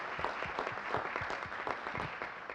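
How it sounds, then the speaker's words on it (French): Audience applause at a press conference before a harness race, a short burst of dense, fairly soft clapping heard from a distance. "on applaudit l'équipe de Josh Power"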